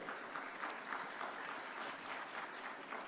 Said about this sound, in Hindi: तो पहले तो जोरदार तालियों से उनका स्वागत किया जाए।